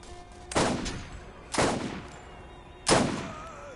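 Three loud, separate bursts of gunfire aimed at the player in Borderlands 1, each one sharp at the start and then dying away, spaced about a second apart.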